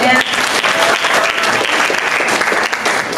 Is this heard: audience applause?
yes